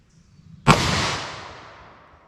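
One .357 Magnum revolver shot firing a 125 grain XTP hand load: a single sharp, loud crack followed by a long decaying echo.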